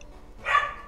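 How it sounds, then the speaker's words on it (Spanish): A pet dog gives a single short bark somewhere in a home, one brief, fairly loud burst with no talk over it. "se esté escuchando a mi perro"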